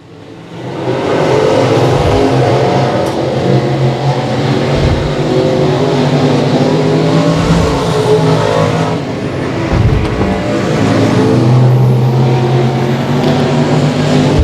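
IMCA Southern Sport Mod race cars roar around a dirt track at Boyd Raceway, engines droning loudly and steadily with rising and falling revs as the pack passes, a commentator audible faintly underneath.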